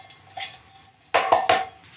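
A Lixada titanium camping pot is handled as part of winter camping gear, giving a few close metallic clinks and rattles in quick bursts after a quiet start, with no talking.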